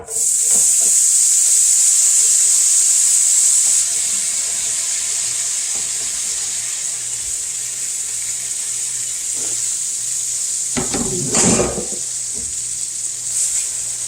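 Seasoned shrimp hit a hot frying pan and sizzle with a steady, bright hiss that holds throughout, with a few brief clatters of the pan or utensil near the end.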